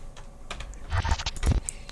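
Quick bursts of typing on a computer keyboard while modelling dice in SketchUp, clusters of close key clicks with short pauses, no talking.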